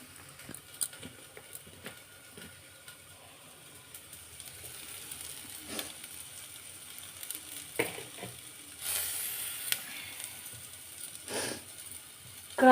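Ivy gourd (dondakaya) fries in a pan with turmeric and chili powder, giving a faint, soft sizzle. A spoon scrapes and taps at it now and then, and there is a brief louder burst near the end.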